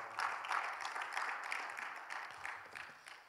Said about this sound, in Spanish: Denle un fuerte aplauso, Señor, por favor.